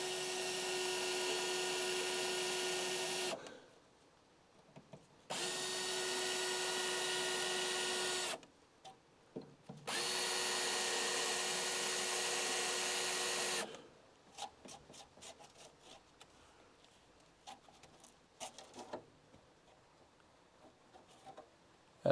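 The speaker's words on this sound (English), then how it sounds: "then we punch them out with the spot welding drill" A spot weld drill bores into car body panels on a crew cab Charger under restoration, running in three long steady whining bursts separated by pauses, followed by short rapid stuttering bursts of drilling.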